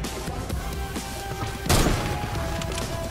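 Video game gunfire rattling in continuous bursts at mid distance, with a sharp louder crack or impact about halfway through that rings out over the ongoing shooting.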